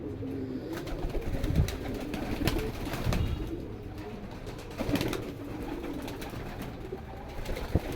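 Domestic pigeons coo steadily from clay nesting pots, soft throaty calls repeating over a low background hum with occasional wing flutters, close and fairly quiet.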